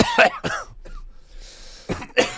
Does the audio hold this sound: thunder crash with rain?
no